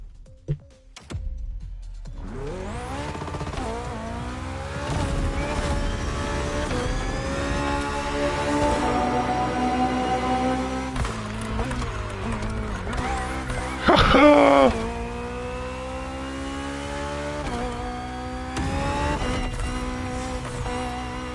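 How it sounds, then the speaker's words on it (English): A car engine in The Crew Motorfest racing game revs and holds a steady droning pitch that shifts through gears, loud and continuous for about twenty seconds with a brief louder surge midway. "The engine sounds perfectly fine."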